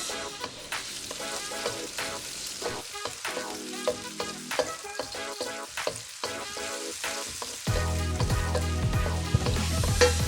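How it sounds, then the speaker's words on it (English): Ginger and garlic stir-fry in a hot pan, a busy sizzle broken by scraping spatula strokes that grows fuller and louder toward the end; no talking. "once the ginger is fragrant, we're gonna continue with the garlic."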